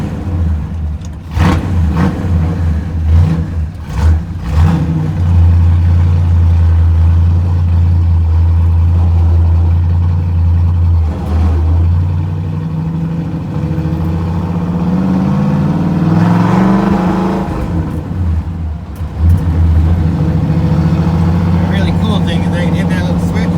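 A 550 HP 1930 Ford Roadster hot rod with a lumpy cam runs loud and close, a choppy idle rising into several throaty revs, with people talking over the engine throughout.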